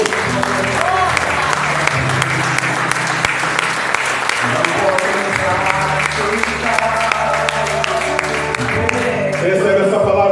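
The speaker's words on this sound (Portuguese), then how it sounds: "Aplauda ao Senhor" A church congregation applauds in praise, steady dense clapping over sustained music with voices mixed in, loud throughout.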